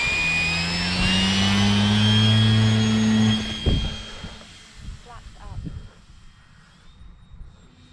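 The electric motor of an Arrows SZD 54 RC model glider spins up with a steady, loud whine for about three seconds, then cuts off, leaving handling noises and someone speaking nearby.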